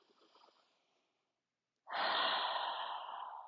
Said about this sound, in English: we're going to inhale up for 5 and exhale down for 5